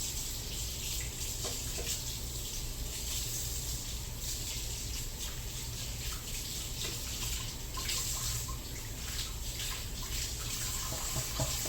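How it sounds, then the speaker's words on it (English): Steady rush of cold tap water filling a side sink, continuous and fairly close, with faint splashing throughout and no talking. "So I'll fill that side sink up with water"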